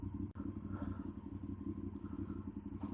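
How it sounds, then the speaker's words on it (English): Honda Varadero XL1000V motorcycle engine idling up close, a steady low rumbling throb with an even pulsing beat that holds throughout. "as you can hear, we've got the bike idling, sitting here"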